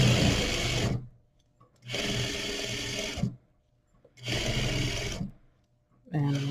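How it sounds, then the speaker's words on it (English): A sewing machine stitches bias tape onto muslin in three loud bursts separated by short pauses, with the needle back tacking at the seam edge. "So I'm going to take a couple stitches, back tack, stitch right on the edge here."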